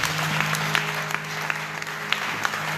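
A church congregation applauds during a Sunday service, steady close clapping from many hands throughout the short stretch.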